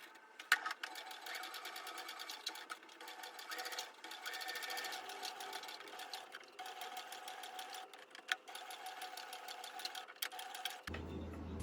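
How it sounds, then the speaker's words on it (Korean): A home sewing machine quilts a heart pattern into fabric for an iPad pouch, whirring in a steady, fast, fairly faint stitching rhythm for about eleven seconds, with brief pauses and no talk. "이제 하트 모양을 따라 재봉해 줄게요."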